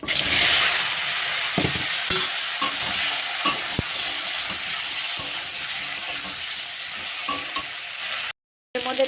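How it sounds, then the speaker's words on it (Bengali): Potatoes, brinjal and black cumin sizzle in hot oil in a kadai, a steady hiss broken by scattered stirring clinks and scrapes of a spoon against the pan, close and alone. "তেল রয়েছে ওর মধ্যে দিয়ে দেবো আমি কালো জিরে দিয়ে আলু আর ইয়ে কাটা রয়েছে বেগুন এটা দিয়ে দেবো"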